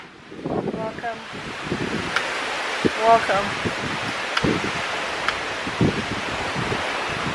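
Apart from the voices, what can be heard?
strong wind at a view deck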